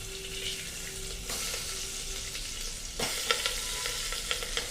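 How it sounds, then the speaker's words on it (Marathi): Eggplant pieces drop into hot oil, which answers with a steady sizzle that jumps louder partway through as more pieces go in, over occasional light stirring taps. "ही जी वांगी आहेत ही वांगी आपण एक एक तेलामध्ये टाकून घेऊया."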